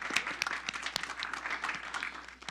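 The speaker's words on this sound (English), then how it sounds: "So let's give them a round of applause for that." Audience applause at a city council meeting in Hawthorne, a steady, moderately loud patter of many hands clapping that holds through the moment and tapers slightly at the end.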